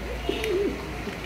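A pair of Lahori pigeons gives a single soft cooing note, a short warbling call close by over a low steady background hum.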